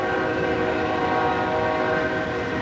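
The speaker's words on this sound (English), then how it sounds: "that train's going somewhere" Train passing close by while sounding its horn, a loud sustained multi-tone blast over the continuous rumble of rail cars.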